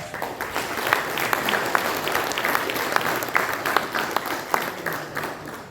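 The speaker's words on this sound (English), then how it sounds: "I request to you to, applause them with the claps" Applause at a technology and electronics event in Northeast India, a full crowd clapping steadily with many overlapping hands and some sharper individual claps standing out, sustained and moderately loud throughout.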